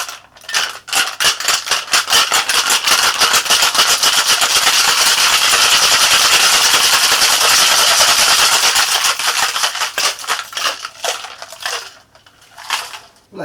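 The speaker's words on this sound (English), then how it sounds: "Let's get some ice for our shaker. And let's give this bad boy a shake." A cocktail shaker packed with ice, shaken hard and fast, giving a loud, dense rattling of ice cubes that runs continuously for several seconds before tapering into slower, separate knocks near the end.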